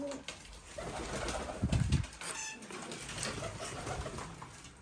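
Soft cooing of Iranian pigeons in a loft, several low throaty calls over a faint background hum and rustle.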